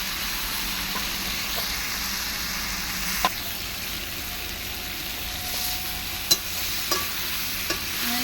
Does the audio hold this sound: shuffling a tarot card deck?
no